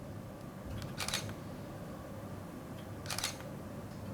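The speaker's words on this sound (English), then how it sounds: "don't forget to press the shutter button." Camera shutter fired twice while photographing artwork, two crisp mechanical clicks about two seconds apart over quiet room tone.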